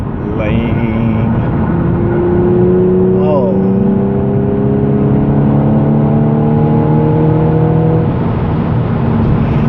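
A car engine revs and whirs as paddle shifts step the pitch up through gears, loud and close inside the cabin, with a person's brief exclamation over it.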